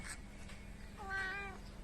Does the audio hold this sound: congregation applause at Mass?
no